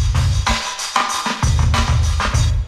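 A dry drum break loops with punchy kicks, snares and busy hi-hats in a quick, steady groove, heard clean and close without saturation, no voices.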